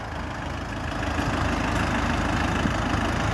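Low, steady rumble of a Dongfeng DF404G2 40-horsepower tractor's diesel engine idling nearby, a throbbing chug that holds even throughout.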